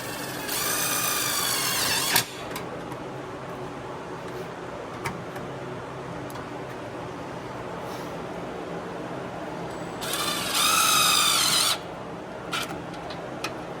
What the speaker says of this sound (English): I'm gonna start with the bottom holes with some self-tapping screws